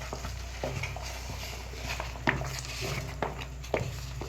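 Pepper tomato chutney frying in a pan is stirred, with soft scraping and faint sizzling over a steady low hum, punctuated by a few sharper clicks of the spoon against the pan.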